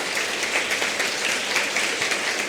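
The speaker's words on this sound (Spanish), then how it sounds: "Démosle una ofrenda de palmas, hermanos," A church congregation claps together in steady, dense applause that fills the whole stretch, loud and continuous without pause.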